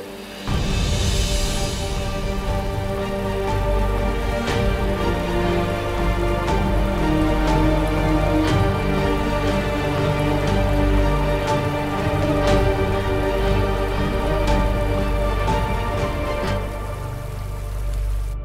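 Heavy rain pours steadily outside a house, a loud dense drumming on surfaces with scattered louder drops, continuous and unbroken throughout with a faint tonal hum beneath.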